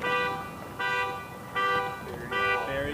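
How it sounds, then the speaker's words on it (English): Car alarm horn blaring at a golf course during a tournament, a repeating pulsed electronic tone cycling through several loud bursts about every three-quarters of a second, close and dominant. "Wonderful alarm car horn going off as Nico steps to the tee."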